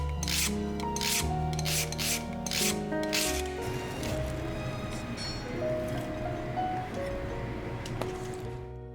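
Shallots are grated by hand on a grater for cooking, a quick series of close rhythmic rasping strokes that later settles into quieter scraping, with faint background music and no speech.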